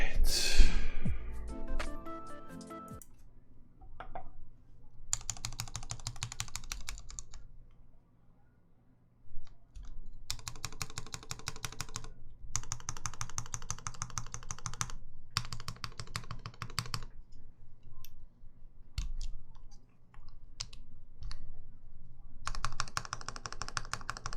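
Typing rattles across a Virgo mechanical keyboard fitted with Mauve switches, in dense, close bursts of clacky keystrokes separated by brief pauses, with a sigh at the start.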